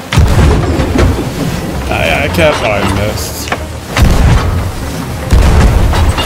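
Cannon fire aboard a ship in the pirate video game Sea of Thieves, heavy booms at the start and again around four and five seconds, with players talking over the action.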